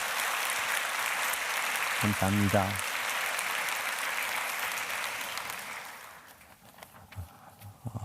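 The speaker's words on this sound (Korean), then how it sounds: "영상으로 참여하고 있는 일본 성도님에게 격려의 박수를 부탁드립니다." Congregation applause during a church dawn prayer service, a broad wash of clapping that fades out after about six seconds, with a brief spoken word partway through and scattered claps at the end.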